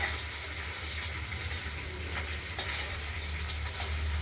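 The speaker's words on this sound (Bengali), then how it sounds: "এটা পনিরের টুকরোগুলোকে আমরা শুধু ভেজে নেব" Paneer pieces frying in hot oil in a kadai give a steady, close crackling sizzle that holds evenly throughout, with no voices.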